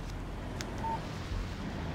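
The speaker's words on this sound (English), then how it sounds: "Text message from Barry." A single short electronic beep from a phone text message tone in the Alan Wake video game, faint and brief against a low steady background hum.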